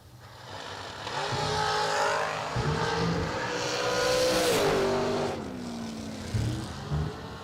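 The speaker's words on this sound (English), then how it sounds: "Tim Miller in the Mopar wedge-powered S&W chassis dragster, dial 484" A Mopar wedge-powered S&W chassis dragster roars down the drag strip, a loud, sustained engine howl that swells and shifts pitch as it pulls through the run, with no talk over it.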